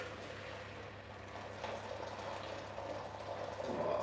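Hot water pours steadily over a stock cube into a measuring jug, filled to about 600 ml for tray-baked spaghetti; a continuous close rushing fill that swells louder toward the end.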